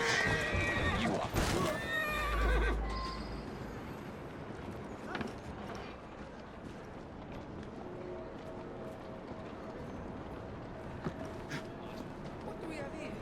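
A horse in Assassin's Creed Syndicate gives a loud whinny near the start, with hoof clops and ambient game sounds continuing faintly afterward.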